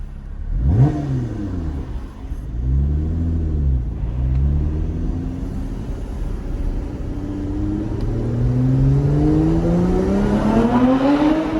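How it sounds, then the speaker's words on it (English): A 2020 Lotus Evora GT's exhaust revs up repeatedly, the engine note rising and falling before a long climbing rev, loud and close. "Get a little exhaust sound."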